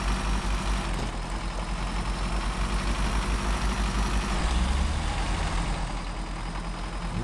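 A heavy truck engine in SnowRunner, a steady, loud low rumble droning throughout with a slight swell in revs midway, no talk.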